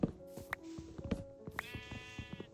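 Sheep in the video game Minecraft bleat several times, short nasal baas spaced about half a second apart, with one longer wavering bleat, fairly close and clear against a quiet background.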